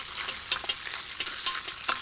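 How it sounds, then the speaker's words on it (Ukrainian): Steady, close sizzling of pork brisket and ribs frying in a hot cauldron, with crackles and small pops throughout. "Нарізані грудинку і реберця я кладу до казана. Він вже розігрітий, шкварчить."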